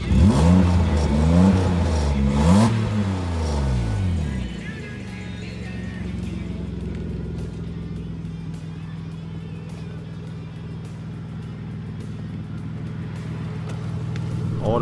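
A BMW M3 engine revs hard in a few rising and falling bursts, then drops to a steady low idle rumble that holds to the end.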